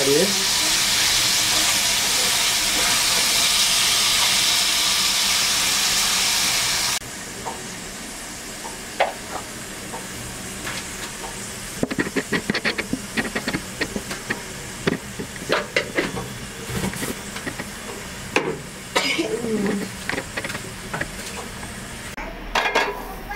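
Hilsa fish coated in spices fry in hot oil, opening with a loud, dense sizzle that settles into quieter frying, broken by frequent metallic clinks and scrapes as the pieces are stirred and turned around the pan.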